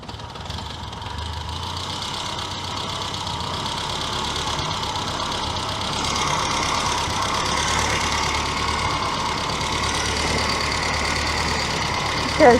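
Reliant Fox small car engine idling with a steady, slightly knocking rumble, continuous and close, with people talking over it.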